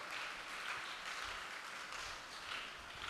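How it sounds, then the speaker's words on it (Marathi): Audience at a St. Thomas Church children's drama event clapping for the animators, a soft, steady ripple of applause heard from some distance throughout. "त्या ॲनिमेटरसाठी सगळ्यांनी टाळ्या वाजवायच्या"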